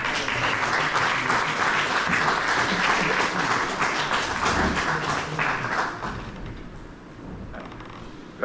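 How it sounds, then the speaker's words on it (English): A school alumni chapter launch audience applauding steadily for about six seconds, loud and dense, then thinning into scattered claps. "Can you give a round of applause for it?"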